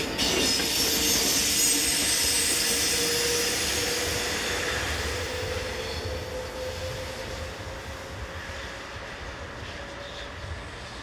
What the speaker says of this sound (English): These are generally worked by Class 450 locomotive and permanently coupled coaches on the route from Winterthur.